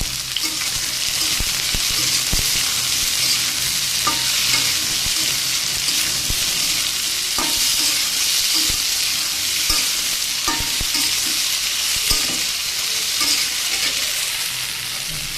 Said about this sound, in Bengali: ভেন্ডি আজকে আমি পাঁচফোড়ন দিয়ে ভাজতেছি